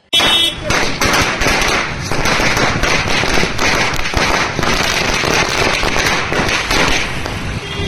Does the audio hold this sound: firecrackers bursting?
yes